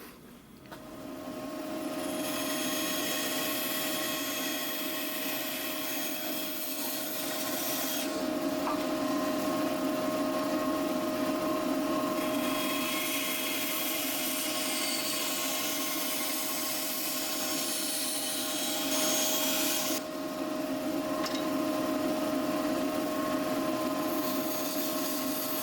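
A bandsaw runs steadily while cutting around a wooden template, a constant motor whine with a brighter blade rasp that swells in two longer stretches of cutting, close and alone with no talk.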